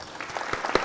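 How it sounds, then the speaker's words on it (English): A brief burst of scattered applause, a few distinct claps heard close and moderately loud, ending with a sharper clap. "let's get an applause there"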